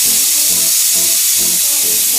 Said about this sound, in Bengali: প্রেসার কুকারে 5 থেকে 6টা সিটি দিলেই এটা হয়ে যাবে